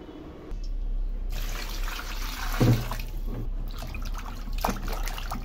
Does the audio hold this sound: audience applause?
no